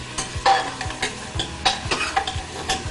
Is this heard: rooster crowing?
no